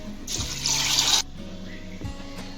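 Water poured from a vessel into a pressure cooker holding chickpeas, turmeric and salt in a home kitchen, a short splashing pour of about a second, then quieter dripping and small knocks.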